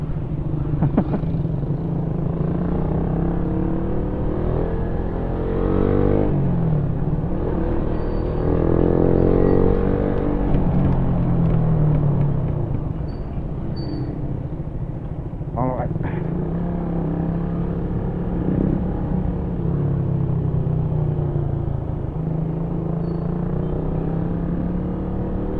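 Road traffic on the way to Alaminos City, heard from a big bike: steady engine and wind rumble with cars passing by, one swelling louder midway, while someone talks throughout.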